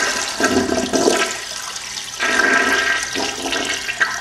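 A clogged toilet flushes with a rushing, gurgling surge of water, loud and close, pausing briefly and then swelling again in uneven waves with no voices over it.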